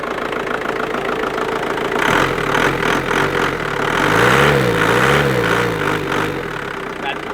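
A diesel van engine idles with a steady clattering rumble, then revs up and settles back, loud and close, with voices talking over it.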